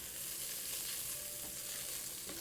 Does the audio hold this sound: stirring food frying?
yes